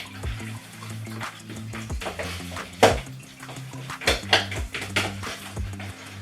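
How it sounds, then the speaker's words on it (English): Keto lasagna dough being mashed and mixed by hand in a bowl, with irregular clinks and scrapes of utensils against the dish and soft squelching, close and moderately loud over a low steady hum, with no talking. "Squash it down, mix it together, make sure everything's all nicely incorporated."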